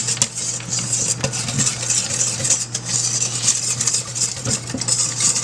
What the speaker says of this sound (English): I'm gonna add a little bit and I'm gonna continue to stir here.